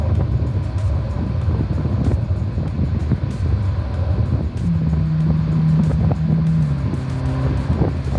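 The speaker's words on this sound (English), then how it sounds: "Hear that exhaust note? It sounds amazing." Ferrari Portofino exhaust in sport mode on a road drive, a loud, steady low engine drone heard from inside the cabin with heavy wind and road rumble, its pitch rising briefly mid-run.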